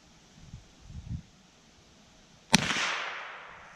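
A single sharp rifle shot cracks out outdoors after a short quiet stretch with faint thumps, followed by a lingering rumbling echo that fades slowly.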